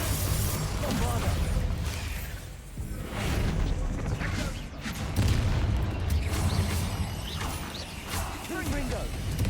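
Bombarda blasting spell explosions in Hogwarts Legacy, several heavy booms and bursts over a busy game soundscape, close and loud, with a voice speaking among the blasts.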